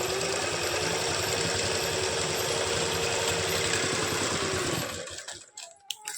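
An electric sewing machine stitches pleats into a salwar, its steady whirring drone running loud and close for about five seconds before stopping, followed by a few soft handling clicks.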